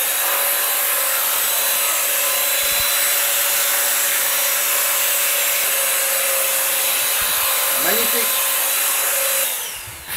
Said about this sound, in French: Comment tu trouves cet aspirateur flex de chez Rowenta?